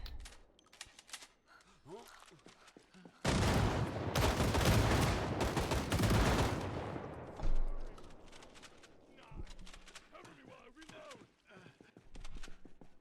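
Gunfire in the zombie survival game Project Zomboid, a dense loud burst of rapid shots lasting a few seconds, with quieter game sounds and a voice before and after.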